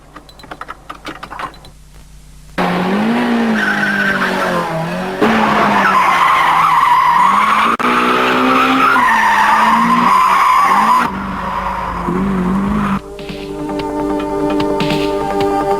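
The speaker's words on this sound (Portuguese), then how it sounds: "som de pneus derrapando e de motor acelerando" Drift car in the mountains, tires squealing and skidding loudly while the engine revs hard in long sustained bursts, with shifts in pitch between passes.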